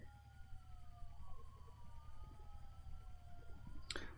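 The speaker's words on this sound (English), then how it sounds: "Oh no, I hear sirens." Emergency vehicle sirens wail faintly in the distance, slowly rising and falling tones over a low outdoor rumble, with a short sharp noise near the end.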